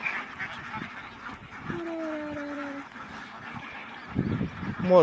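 A large flock of white and black ducks quack and honk nearby amid outdoor background noise, with a burst of louder quacking near the end.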